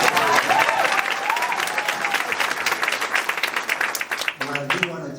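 At a township meeting, a room applauds and cheers for Clerk Wells, with crisp individual claps standing out over the crowd before they thin out. A voice starts speaking as the clapping dies.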